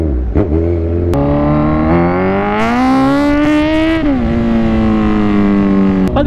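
A motorcycle remapped by Bike Tech revs hard and accelerates, its engine note climbing steadily in pitch, briefly dropping at a shift, then holding a loud, close, buzzing drone.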